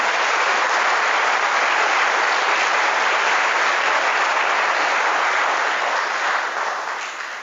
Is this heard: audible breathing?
no